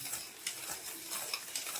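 Spoon mixing rava cake batter in a bowl, quick soft repeated stirring strokes, close and faint, with no voices.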